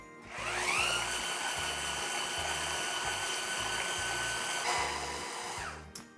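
A blender runs steadily, pureeing romesco sauce until smooth, with a loud, continuous motor whir that spins up at the start and winds down at the end, heard alone without talk.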